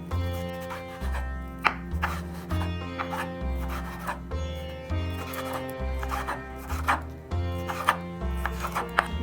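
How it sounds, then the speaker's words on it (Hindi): A knife slices a bell pepper into long strips on a board, producing a steady series of crisp cutting taps beneath louder background music. "मैं लॉन्ग स्लाइस में कट कर रही हूँ।"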